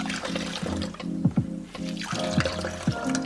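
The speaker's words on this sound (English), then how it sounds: "And then squeeze this mixture to pull more juice out of it." Ginger puree mixture is squeezed by hand to extract its juice, giving wet squelching and dribbling liquid sounds in an uneven rhythm, close and fairly loud.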